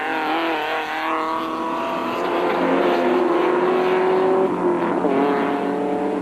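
Land Rover rally cars at the 2004 Mafikeng 400 race toward a corner, several engines droning and revving together in a loud, sustained roar with shifting pitch as they close in.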